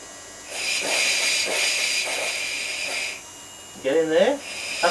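Live steam Gauge 1 model locomotive, an Aster Titfield Thunderbolt, hissing steadily with the blower slightly open, a close continuous hiss with soft puffs, ending in a brief higher tonal burst as voices talk faintly nearby.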